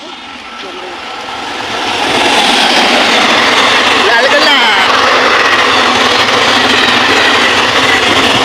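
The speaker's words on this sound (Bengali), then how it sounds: "ওই দেখো আরেকটা ট্রেন চলে এসেছে" A train rumbles past close by in a steady, loud roar that swells after the first two seconds and holds, with people talking over it.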